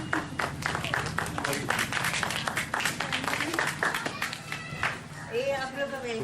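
An audience claps in welcome at a gathering, steady rhythmic applause running nearly the whole time, with a voice speaking over it.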